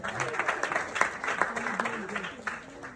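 Audience applause and clapping at a comedy club, a dense, steady patter of many hands filling the room, with a voice talking over it.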